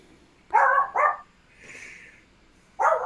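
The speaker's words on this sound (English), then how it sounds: "Now, that was my dogs." Several dogs bark indoors in short, loud bursts: two quick barks, then a softer whine-like yip, and another bark at the end.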